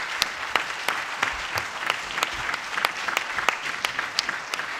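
Steady applause from a panel audience, with dense continuous clapping and a few louder sharp claps standing out.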